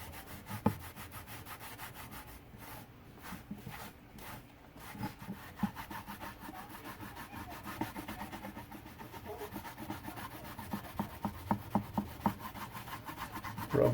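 A rag rubs paint into painted plywood against the grain, a soft rhythmic scrubbing of cloth on wood, close and fairly quiet, with quicker strokes building toward the end.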